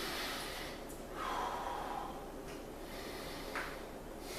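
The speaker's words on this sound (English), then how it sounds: "Lung fields. Deep breaths, please." Quiet, close breathing from a patient taking deep breaths during a lung examination, with a few slow inhales and exhales separated by soft pauses.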